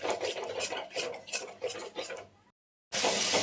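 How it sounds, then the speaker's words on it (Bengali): A utensil stirs yogurt into fried spice masala in a pan, rhythmic close scraping strokes repeating roughly twice a second, followed by a short silence and then a louder steady hiss. "দইটা দিয়ে দেবো। দিয়ে সঙ্গে সঙ্গে নাড়বো, না হলে দইটা কেটে যাবে।"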